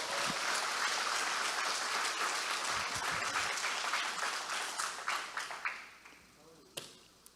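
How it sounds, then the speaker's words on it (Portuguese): Church congregation applauding to God during a sermon, a dense round of clapping that thins after a few seconds into scattered individual claps, with a voice coming in as it dies away. "Vai aplaudindo a Deus agora."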